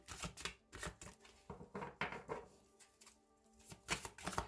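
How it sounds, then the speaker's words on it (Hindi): Tarot cards shuffled by hand at a reading table, a series of soft, quiet riffling and tapping bursts in an irregular rhythm, heard close up with no talk. "चलिए मैं यहीं पर शफल कर रही हूँ आपके सामने ही"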